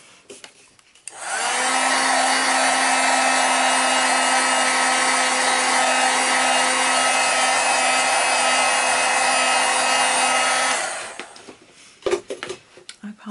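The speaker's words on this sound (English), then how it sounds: "I'm just going to zap it with the heat tool. This is a Wagner heat tool." A Wagner heat tool blows hot air in a steady, loud whoosh with a faint hum, running continuously for about nine seconds before it cuts off, with small handling noises after.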